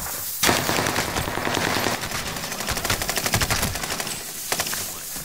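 Bursts of automatic gunfire and rapid rifle shots fill a Warzone Pacific match on the Caldera map, dense and loud, with rattling volleys in the middle and a sharper burst near the end.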